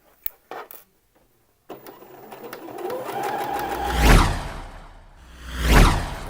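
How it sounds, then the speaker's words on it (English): Sewing machine running a line of stitching down the waistband edge of Thai wrap trousers, starting after a few light clicks and rising twice in speed in swelling whirring runs, close and loud. "do a line of stitching down this edge here"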